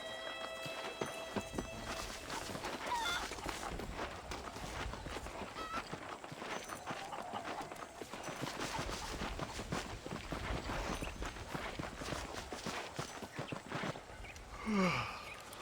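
Horse hooves clip-clop in the Red Dead Redemption video game, a steady walking rhythm over continuous ambient game sound with some other noises layered in.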